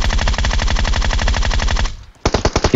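A Groza rifle fires in PUBG Mobile as a loud, rapid sustained burst of automatic gunfire, then pauses briefly before a shorter second burst.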